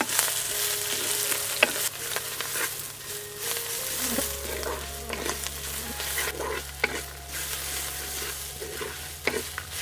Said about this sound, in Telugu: ఉల్లిపాయలు ఈ విధంగా వేగిన తర్వాత కోసి పెట్టుకున్న చామాకు కూడా వేసేసుకుందాం